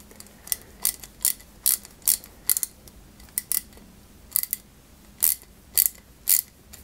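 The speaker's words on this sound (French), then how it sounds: "je vais y mettre une petite vis AP qui va maintenir ce démarreur en place" Small plastic and metal clicks and ratcheting taps while a tiny screw is driven to hold the starter on a 1/8-scale Ferrari 330 P4 model, a dozen or so crisp close clicks in irregular bursts.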